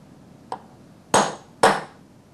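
A hammer strikes a center punch on metal in a metalworking shop: one light tap, then two loud, sharp, ringing blows about half a second apart, close by with no talk.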